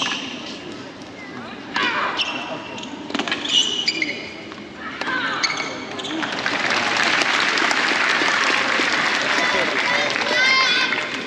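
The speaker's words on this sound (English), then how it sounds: "Crowd actually getting really into this" A crowd at a tennis practice session in Rod Laver Arena at the Australian Open applauds: a voice speaks over scattered sounds at first, then clapping swells into sustained applause.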